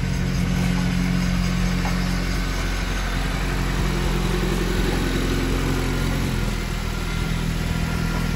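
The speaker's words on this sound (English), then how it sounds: "Sounds like the hubs are spinning." A 9th-generation Honda Civic Si, fitted with a freshly installed Clutch Masters FX400 clutch, runs in first gear with the hubs spinning, giving a steady, loud mid-pitched engine drone with constant vibration throughout.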